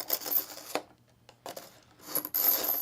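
Knife blade scraping along coarse black sharpener rods in short gritty strokes, several bursts separated by brief pauses, close and fairly loud.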